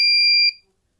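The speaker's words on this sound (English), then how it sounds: "Why it beeps a lot." A MIOYOOW ultrasonic ranging alarm gives one sustained, shrill electronic beep that holds steady for about half a second, then cuts off into silence.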